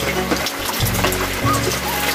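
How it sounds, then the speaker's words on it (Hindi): Heavy rain pours down during the summer season, a dense, steady wash of falling water with scattered splashes and a low rumbling undertone throughout, fairly loud, with no voices. "इधर हो रहा है भाई बरसात, पूरा पानी गिर रहा है गर्मी का सीज़न में।"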